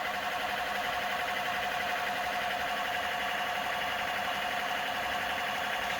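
A 4 inch rotor spinning up beside a coil, a steady buzzing mechanical whir with a fast pulsing flutter, continuous and even in level throughout.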